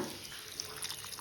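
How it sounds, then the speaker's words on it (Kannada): Water is poured into a pan for rice, a faint, brief trickle and splash heard up close for just over a second with no voices. "ಈಗ ಫ್ರೆಂಡ್ಸ್ ಸ್ವಲ್ಪ ನೀರು ಆ್ಯಡ್ ಮಾಡೋಣ"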